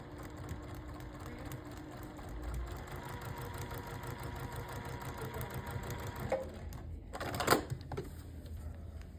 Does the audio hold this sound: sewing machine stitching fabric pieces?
yes